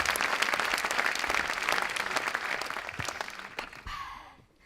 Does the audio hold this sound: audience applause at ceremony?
yes